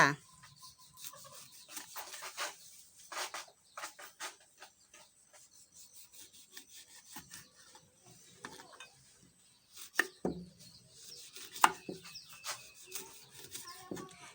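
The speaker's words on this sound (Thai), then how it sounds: "เราก็จะมาหั่น มะกรูดค่ะ เป็นชิ้นบางๆค่ะ" Faint, irregular cutting and scraping sounds, a knife thinly slicing kaffir limes against a board in quick, uneven strokes.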